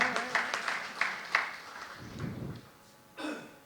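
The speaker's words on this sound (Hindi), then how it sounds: "ताली पीछे से भी बजाएंगे।" Audience applause at a Hindi poetry gathering (kavi sammelan) in Hapur, heard as several short bursts of clapping in the first half-second to second and a half, a rumbling murmur, then a final short burst near the end.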